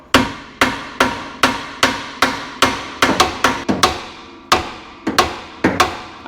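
A hammer strikes a stuck tie rod on a 1976 Ford van in sharp, ringing metallic blows, about a dozen close hits in a fairly steady rhythm with a quick double strike near the middle.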